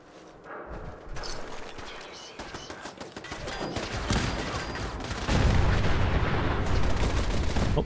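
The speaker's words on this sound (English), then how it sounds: "What little gits shooting at me?" Enemy gunfire in Fallout 4 crackles in repeated bursts of shots, starting sparse and growing louder and denser into sustained fire toward the end.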